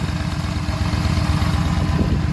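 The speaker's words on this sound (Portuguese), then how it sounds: "A moto estável, funcionando." A Yamaha XVS950A Midnight Star motorcycle engine idles steadily up close after a fuel pump replacement, a low, even rumble with a regular throbbing pulse and no change in speed.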